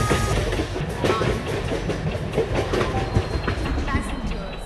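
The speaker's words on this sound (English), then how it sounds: "Train number 12655 Humsafar Superfast Express is arriving at platform number" Train number 12655, the Humsafar Superfast Express, pulls into an Indian railway platform with a loud, continuous rumble and clickety-clack of wheels, while a voice speaks in the background.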